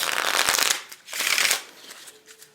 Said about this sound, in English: I've tried shuffling the cards and breaking them in